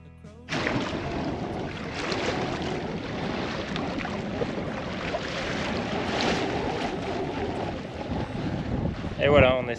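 Beneteau Oceanis sailboat under mainsail and genoa heading toward Cannes, giving a steady broadband rush of wind and water along the hull, fairly loud and continuous throughout with gusty microphone buffeting.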